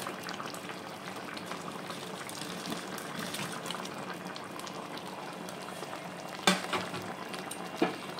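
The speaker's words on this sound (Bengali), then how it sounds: "এবার আমি বড়াগুলোকে এর মধ্যে দিয়ে দেবো।" Prawn fritters (chingri bora) simmer in a spicy gravy with a steady, soft bubbling boil. A couple of sharp clinks from a spoon against the pot come near the end.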